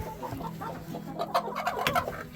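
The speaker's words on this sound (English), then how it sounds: "we'll just get that chicken out." Chickens clucking inside a coop, a run of short, uneven clucks and squawks of varying loudness, close by, with a low steady hum underneath.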